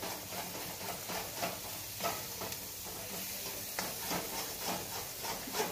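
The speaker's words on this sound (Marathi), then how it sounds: "तेलात चांगलीच परतवून घेते. आलं लसूण पेस्ट, कांदा, टमाटा, खोबरं." Ginger garlic paste, onion, tomato and coconut sauté in hot oil, a soft steady sizzle with repeated scraping stirs of a spoon in the pan, fairly quiet and close, no talking.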